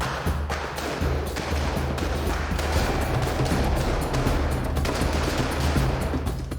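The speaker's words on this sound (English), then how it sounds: "he's just firing multiple shots" Dense, continuous gunfire in a film action scene from The Dark Tower, with rapid overlapping shots and impacts forming a loud, sustained barrage with no pause.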